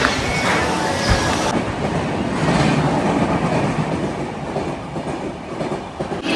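A train rumbles past close by, steady loud clatter of wheels on rails with a brief metallic squeal, no talking.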